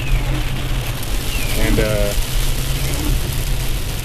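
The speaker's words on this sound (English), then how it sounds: "it's raining really hard." Heavy rain drums steadily on a moving car while it drives, a dense continuous patter over low road and engine rumble, with someone briefly speaking over it.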